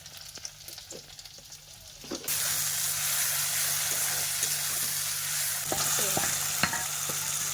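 Meat and potatoes frying in a pan, seasoned with salt, turmeric and chili, give off a steady loud sizzle that jumps louder partway through, with scraping stir strokes and clinks of the spoon against the pan.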